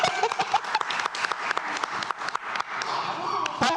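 Scattered audience applause at a county board of commissioners meeting, uneven claps rising and falling with some voices mixed in.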